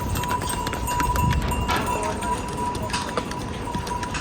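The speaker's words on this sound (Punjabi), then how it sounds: "ਇਹ ਪੁਲ ਉੱਪਰ ਦੀ ਵੀ ਘੋੜੇ ਲੰਘ ਰਹੇ ਆ" Horses' hooves clop in an uneven rhythm across a bridge on a mountain pilgrimage trail amid a busy crowd murmur and background noise; steady, moderately close.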